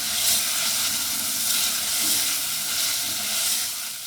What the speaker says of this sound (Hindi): व्यूअर्स, अब हम इसे 2 से 3 मिनट के लिए भूनेंगे।